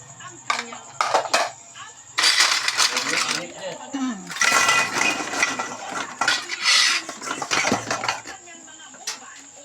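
Plates and cutlery clatter and clink at close range during dishwashing at home, with bursts of scraping and knocking coming in irregular clusters, alongside some talking.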